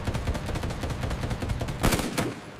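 A B-17 bomber's nose machine gun fires a rapid, continuous stream of loud shots in a WWII battle scene, with a denser burst near the end.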